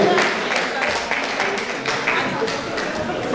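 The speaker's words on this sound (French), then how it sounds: "Vous avez applaudi le pasteur Jean de Dieu Bro." A church congregation applauds the pastor at a celebration service. Scattered rhythmic clapping runs steadily throughout while a loud voice speaks over it.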